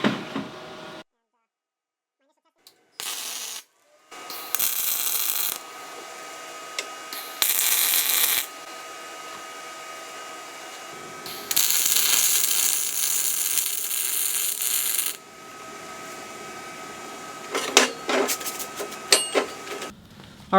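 A YesWelder DP200 MIG welder runs beads on quarter-inch steel, making several separate bursts of harsh, crackling arc buzz of a few seconds each, with quieter gaps and clicks between them.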